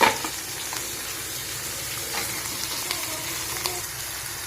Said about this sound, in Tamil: வெங்காயம் போட்டுக்கலாம். வெங்காயம் கொஞ்சம் வணங்கட்டும். தக்காளி போட்டுக்கலாம்.